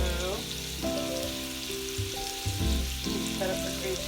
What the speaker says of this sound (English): And the sausage is happily cooking, waiting to be added.